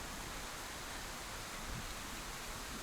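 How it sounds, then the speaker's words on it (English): Steady, soft rain hisses outdoors in the horror adventure game Scarlet Hollow, a faint, even wash of noise with no distinct drops or other sounds. "It's outside, it's raining."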